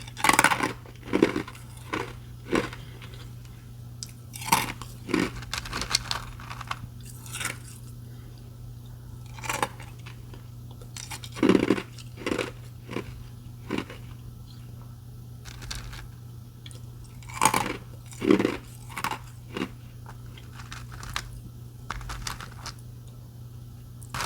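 Ice is bitten and chewed in a string of sharp, close crunches spaced irregularly over a low steady hum, each burst followed by quieter grinding, with no talking.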